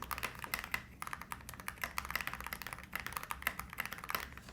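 Rapid typing on a Tiger Lite mechanical keyboard fitted with SA keycaps, a dense run of close, crisp key clacks at a steady fast pace with no speech.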